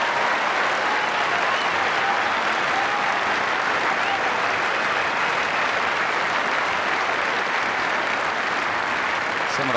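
Sustained applause from a large tennis crowd at a Queen's Club final, dense and steady throughout with some spectators rising to their feet, a broad wash of clapping and crowd noise filling the whole stretch.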